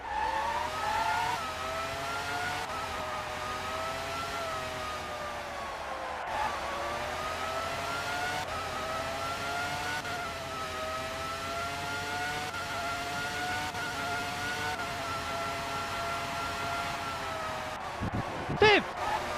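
A Formula 1 car in Formula 1 '97 on the PlayStation races around the Hungaroring, its engine a sustained high whine that rises and falls through gear changes, with a commentator talking over it.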